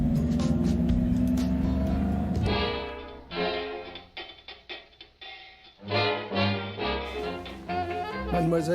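A 1926 Type 40 vintage car runs close by, its engine note shifting and pulsing in uneven bursts, with a brief stretch of steadier rumble at the start.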